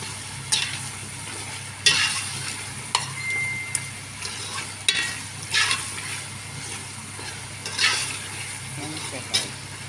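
Spices frying and sizzling in a pan while being stirred, with repeated scraping strokes over a steady sizzle, close and moderately loud, for a brown flour and vegetable dish.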